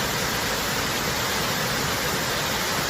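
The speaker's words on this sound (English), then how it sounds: "Okay, I think this is Twister Falls." Twister Falls on Eagle Creek pours in a loud, unbroken roar of falling water, dense and steady throughout with no voices over it.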